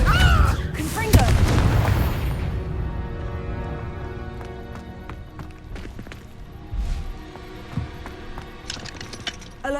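Confringo blasting spell explosions in Hogwarts Legacy: a loud close boom opens with a cluster of bangs, then the sound thins into lighter clatter and smaller impacts, with a voice speaking over part of it.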